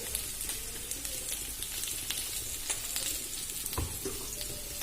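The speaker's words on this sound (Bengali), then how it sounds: "আমি আলুটা ভেজে নেব লাল লাল করে" Potato pieces fry in hot oil, giving a steady, faint sizzle with soft bubbling and the occasional stir, continuous and with no talk.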